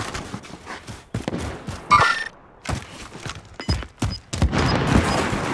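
Gunfire in the video game Warzone, a ragged string of sharp shots and short bursts at mixed distances with clicks and mechanical noises between them.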